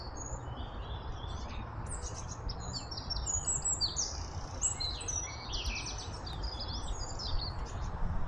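Small birds chirping in trees at Red Gates on Bunbury Road, the entrance to Wark Castle; high, busy twittering calls overlap from several birds at a moderate distance over a steady outdoor rumble of wind or traffic.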